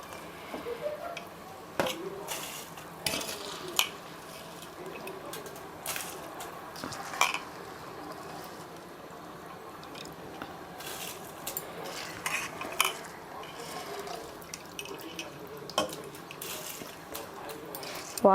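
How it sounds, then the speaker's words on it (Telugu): Basmati rice being added to a pot of boiling mutton curry for a mutton pulav, with scattered clinks and clatters of utensils against the pot over a soft bubbling background, close and moderately quiet. "ఇదిగోండి బాస్మతి రైస్ వేసేస్తున్నాను."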